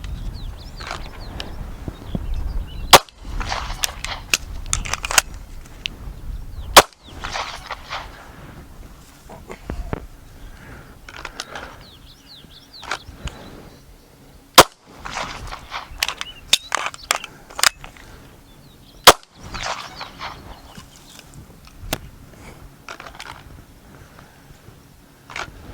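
Sharp pistol shots ring out at a shooting range during a dot torture drill: single shots and pairs after a draw and a speed reload, repeated in rounds, with quieter handling noise between them.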